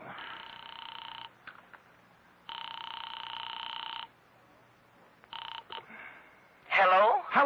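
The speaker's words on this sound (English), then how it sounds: "I am actually ringing North Tacoloma 3" Steady electronic tones sound in long bursts with short gaps, like a phone line ringing, then a few brief beeps and a warbling tone at the end.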